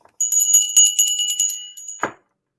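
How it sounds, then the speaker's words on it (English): Bells ring in a quick, bright jingling run for about two seconds, close and fairly loud, ending with a single lower thump; no talking. "Wifey's ringing her bells"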